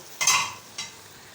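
Mutton frying with onions and tomatoes in a pan, two short bursts of sizzle and scraping as it is stirred, then a low steady hiss in between, no voices.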